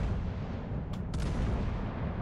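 Naval artillery fires in the World of Warships video game, with distant heavy gun reports and a couple of short cracking bursts over a constant low rumbling battle ambience.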